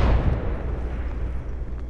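A frag grenade detonates in Apex Legends, one heavy close boom whose low rumble decays across about two seconds, with no talk over it.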